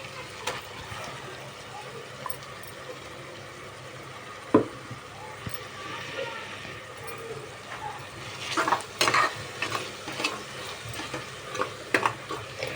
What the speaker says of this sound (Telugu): పచ్చివాసన పోయేంత వరకు ఇది వేయించుకోవాలండి